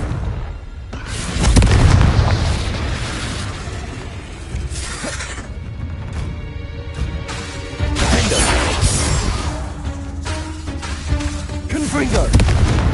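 Confringo fire spell blasts in Hogwarts Legacy, a wizarding video game: loud, booming explosions with shattering crashes and crackle, repeated over a steady, busy din of combat effects, with speech mixed in.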